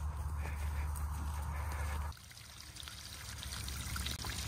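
Water pours and trickles from a newly installed water supply, a steady loud gush that cuts off abruptly midway, leaving a quieter trickle and faint background noise.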